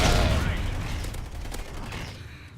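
Bursts of MTAR-X submachine gun fire in Call of Duty: Ghosts, a loud rapid volley at the start that trails off into fainter scattered shots and game ambience.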